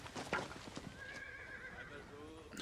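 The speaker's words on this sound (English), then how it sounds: "Horses?" Horses in a Band of Brothers war-drama scene give a wavering whinny mid-clip after a few thuds, with faint hoof clatter, all quiet and distant beneath people talking over the scene.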